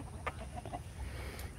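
Chickens clucking in a backyard garden coop, a few short, soft clucks standing out faintly over a steady low background rumble.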